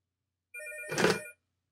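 A telephone bell rings through a phone line simulator, a single short metallic burst of about three quarters of a second, clear and alone against silence.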